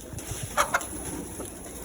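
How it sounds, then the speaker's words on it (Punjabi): Hens let out of their coop give a couple of short clucks, fairly faint against a quiet background hum. "ਚਲੋ ਹੁਣ ਮੁਰਗੀਆਂ ਨੂੰ ਬਾਹਰ ਕੱਢਦੇ ਆ"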